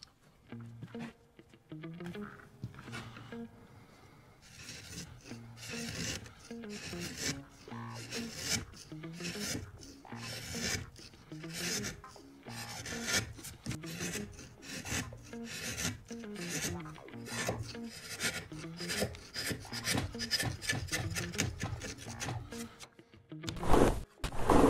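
Steel chisel drawn in repeated back-and-forth strokes on a sharpening stone, a steady rasping rhythm of many close, fairly loud rubs with no talking.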